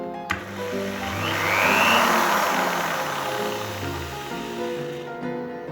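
A hand-held electric drilling machine runs after being reassembled. A sharp click starts a steady, loud motor whine that rises in pitch, holds with a high buzzing hum, then winds down slightly near the end.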